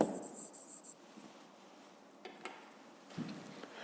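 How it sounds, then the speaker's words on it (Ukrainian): A pen scratches out the answer to a physics textbook problem in short, quiet bursts of writing, with faint taps and pauses between strokes in an otherwise still room. "Записуємо тоді відповідь."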